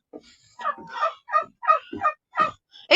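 Farm poultry calling in short separate bursts, a run of clucking, gobbling calls at a close distance with pauses between them.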